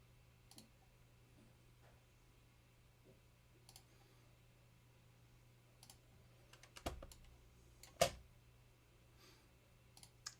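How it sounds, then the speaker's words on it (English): Faint computer keyboard keys tap sparsely at a distance, a few isolated clicks with two sharper presses near the end, over a low steady hum. "I hit spacebar"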